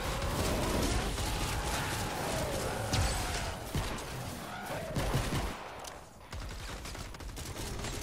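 Ranger burst weapon firing in Fortnite Save the World, loud rapid bursts of gunfire repeating across the clip with dense crackling shots, briefly dropping near the end before resuming.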